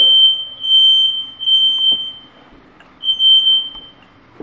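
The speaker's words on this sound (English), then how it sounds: "We'll test the smoke detectors, make sure they work." A smoke alarm emits loud, shrill, piercing beeps in long repeated pulses, close by with brief gaps between them.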